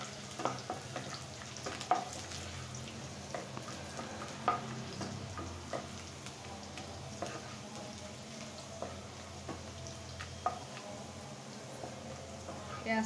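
Onions fry to golden in a pan for a small-fish curry, with a soft, faint sizzle broken by scattered clicks and scrapes of stirring.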